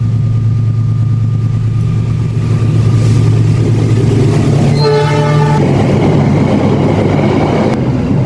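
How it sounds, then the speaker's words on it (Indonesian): A train passes close by with a loud, continuous rumble and wheel noise, and a short horn-like tonal blast sounds midway through the passage. "Ya, baru saja ada kereta lewat ya"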